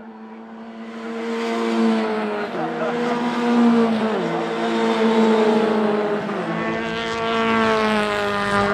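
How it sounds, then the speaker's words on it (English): Formula Ford single-seater race cars at Knockhill leave the holding area together, their engines droning and rising in pitch as several cars pull away at steady, fairly close range with no talk over them. "As the cars leave the holding area for race number 2"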